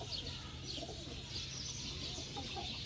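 Sialkoti pigeons coo softly in a loft or enclosure, low repeated throaty calls blending with faint chirps and background hiss, fairly quiet and continuous.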